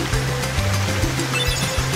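Rushing water from a waterfall in the video game Kingdom Hearts, a loud, steady wash of noise with a looping low rhythmic pulse of game sound beneath it.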